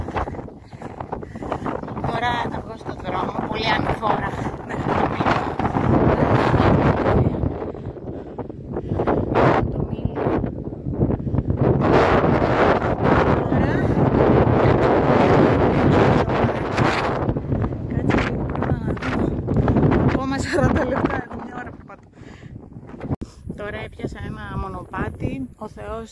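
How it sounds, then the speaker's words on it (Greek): Steady, roaring wind on the island of Lipsi buffets the microphone almost throughout, with someone talking over the gusts; it eases briefly near the end. "Ελπίζω να ακούγεται ο αέρας."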